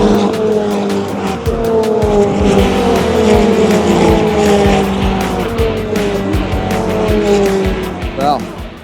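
Ferrari race cars in a support race at the Japanese Grand Prix scream past one after another with high, falling engine notes. Loud crowd and trackside noise fill the background, along with what sounds like tyre squeal.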